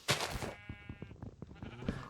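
Sheep in Minecraft bleating, several short, wavering calls close by in quick succession, one drawn-out bleat in the middle, with game clicks around them.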